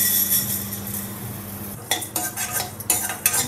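Moong and urad dal dry-roasting in a pan over low flame, with a soft steady hiss and then stirring and scraping strokes that grow clearer and more frequent in the second half, no voices.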